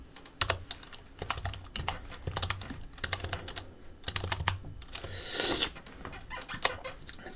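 Steady typing on a Japanese computer keyboard, close and fairly quiet, with irregular key clacks in quick bursts and a brief rustle partway through.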